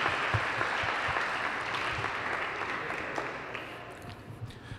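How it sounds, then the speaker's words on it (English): Applause from the audience at a Cheyenne Arapaho shareholders meeting in a hall, a broad, even wash of many hands clapping, fairly distant and soft, sustained for several seconds. "can we give them a round of applause for their dedication and recognition?"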